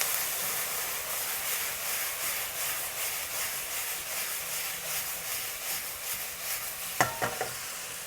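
Chicken and onions with oyster sauce, dark soy sauce and soy sauce are stirred in a hot pan under a constant sizzle, with rhythmic scraping and a few sharp clinks near the end.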